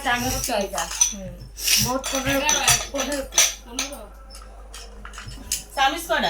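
Metal spoons clink and rattle as they are handled and counted at home, short bright taps scattered through the clip beneath steady conversation in Bengali.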